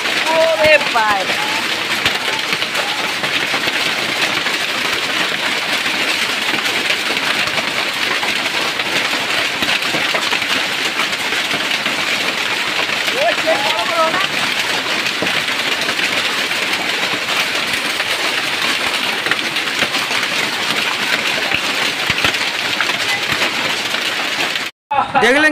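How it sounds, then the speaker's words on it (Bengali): Heavy rain with hail pounds down steadily and loudly throughout, a dense continuous hiss with faint voices and birdlike chirps underneath, cutting off sharply near the end. "দেখলেন কি বৃষ্টি হল, সেই কি শিল পড়ছে অবস্থা"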